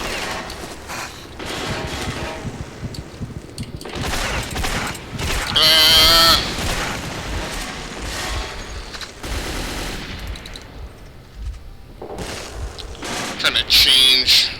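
Enemy gunfire in Metro 2033 on PC, bursts of shots and loud cracks in a chaotic fight, with someone talking over much of the action.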